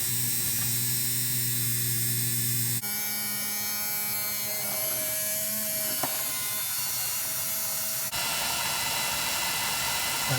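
A small electric motor, a Ringfield-type model train locomotive motor, runs with a steady high-pitched buzzing whine that shifts in pitch at a few abrupt points, close and continuous, with no talking.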